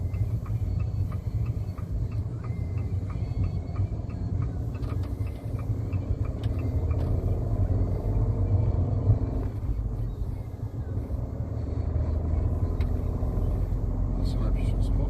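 A Fiat 500 S with the 0.9 TwinAir 105 hp engine, heard from inside while driving: a steady low engine drone and road rumble with rising and falling revs, people talking over it throughout.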